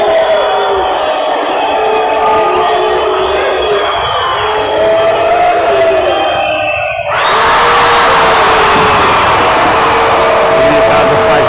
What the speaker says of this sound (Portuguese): Olha a torcida inconformada com o seu time.